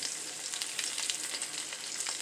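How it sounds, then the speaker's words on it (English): Turkey wings sear in a hot frying pan, giving a steady, close crackling sizzle with no talking. "we're just going to sear it on both sides"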